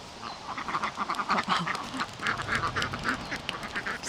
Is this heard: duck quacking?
yes